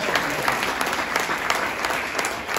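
An audience claps for students being honoured at a school award ceremony, a dense, steady round of applause from a crowd, close and sustained throughout.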